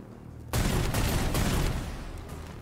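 A sudden burst of gunfire in the video game Necromunda: Underhive Wars: a loud, sustained volley of shots kicks in after a brief quiet lead-in, holding for over a second before tapering off.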